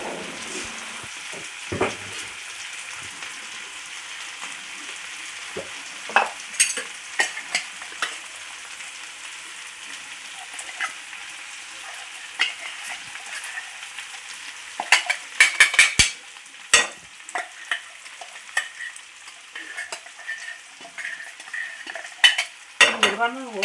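Spiced food frying and being stirred in a pan on a stove, a steady low sizzle carrying irregular scraping and clinking strokes of the stirring utensil, with no talk.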